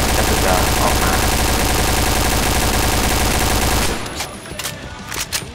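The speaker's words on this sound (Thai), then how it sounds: "วิธีการยิงนั่นคือให้กดทีละ 3-4 นัดนะหรือจะกด 1-2 นัดก็แล้วแต่นะแต่ให้กดเป็นชุดๆ" AUG A3 rifle in the Point Blank shooter game firing short bursts of a few rounds, a loud rapid clatter of shots for about four seconds, then scattered single shots and quieter game noise.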